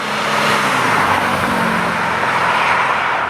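A 1994 Porsche 928 GTS sports car driving, its engine a steady, loud broadband rumble with road and tyre noise that holds evenly throughout, with no talk.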